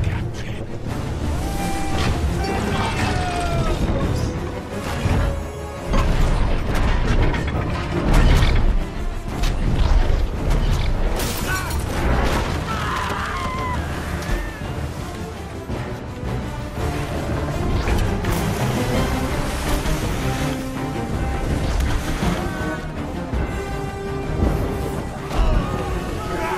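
Heavy cannon fire from a pirate ship's triple guns in a sea battle, booming blasts and crashing impacts mixed with creaking timbers, shouting and a dense orchestral score, loud and chaotic throughout.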